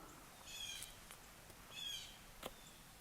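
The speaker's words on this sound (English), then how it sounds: "Hopefully you don't hear this bird it's loud right now." A loud bird calls in the background outdoors, two chirping bursts about a second apart followed by a brief sharp note, with no talk over it.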